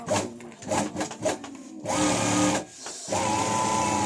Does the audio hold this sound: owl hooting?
no